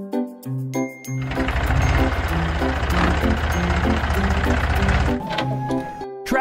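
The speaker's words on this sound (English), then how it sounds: "Tractor with plow." A cartoon tractor pulling a plow revs into a loud, sustained engine drone for several seconds, framed by short plinking musical notes before and after.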